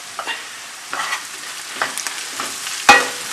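Softened onions frying in a pan for butter paneer, a quiet steady sizzle broken by several stirring scrapes and a sharp utensil knock near the end, no talking.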